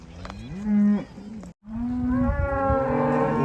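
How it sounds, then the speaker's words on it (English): Cattle on a hot farm bellow loudly and close by, two long deep moos separated by a brief silence, with the second call stretching out and rising. "Those cows are hunting the shade."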